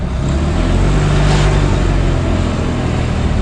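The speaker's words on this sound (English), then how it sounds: "I'm going to switch to third gear." A 1987 Fiat 126p, a small Polish car, drones loudly from up close while driving, its engine note steady with a slight dip and rise in the middle as the gearbox is shifted into third.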